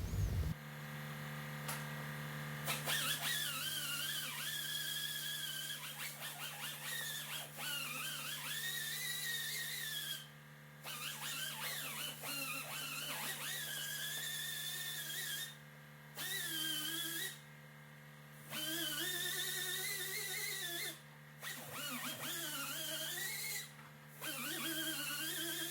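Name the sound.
grinding down hail dents on a Jeep Grand Cherokee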